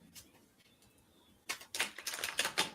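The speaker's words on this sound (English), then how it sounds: "All right, Lou, I've got a nice smooth shuffle" A deck of reading cards is shuffled close up: a quiet stretch, then a rapid burst of crisp, papery flapping clicks over the last second or so, with no talking.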